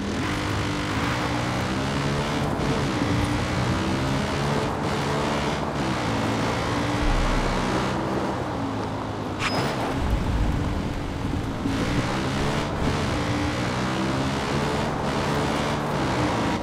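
A car accelerating in the video game Far Cry 5: a loud engine roaring and revving up through repeated gear shifts, steady and close throughout, with rumbling road noise beneath and no voices.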